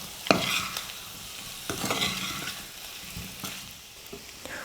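Egg masala sizzles in a pan over a medium flame as it is stirred, with several distinct scraping strokes over a steady soft frying hiss and no voices.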